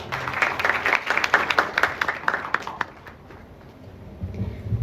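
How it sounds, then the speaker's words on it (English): Audience applause at a circular economy event, a burst of scattered clapping that thins out and fades toward the end, moderately close with no talking over it. "Let us give them a big round of applause."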